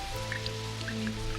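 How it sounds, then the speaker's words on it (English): Rain patters in a 1982 animated space film, a steady wash of drops and drips under a low hum, with no talk over it. "The rainy weather makes me gloomy."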